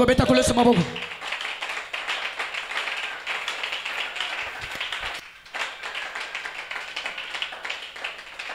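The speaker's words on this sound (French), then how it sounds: "On peut acclamer le Seigneur" A church congregation at a Wednesday prayer meeting clapping steadily to acclaim the Lord, a dense, continuous stream of many hands filling the room at a fairly even level, with one brief drop partway through.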